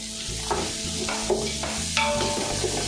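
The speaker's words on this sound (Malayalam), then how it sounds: "ഇഞ്ചി വെളുത്തുള്ളി സോട്ടായതിനു ശേഷം അതിലേക്ക് സവോള അരിഞ്ഞു വെച്ച സവോള ചേർത്ത് കൊടുക്കാം" Sliced onion sautéing in a pan with ginger and garlic for kappa biriyani: a constant close sizzle with several distinct stirring scrapes and clinks, and no voices.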